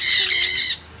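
A bird perched on a person's head lets out one loud, harsh squawk right up close, lasting under a second before it cuts off.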